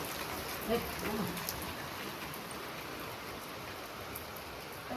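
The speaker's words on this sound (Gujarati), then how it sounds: "વરસાદ તો જબર આવી રહ્યો" Dense, steady hiss of heavy rain pouring down, constant throughout with a faint brief murmur near the start.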